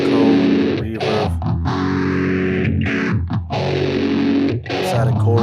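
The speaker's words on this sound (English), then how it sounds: "tape echo, reverb." A music track run through tape echo and reverb plug-in effects plays loud and continuous, a thick, distorted tone smeared with repeating echoes and a lingering wash of reverb.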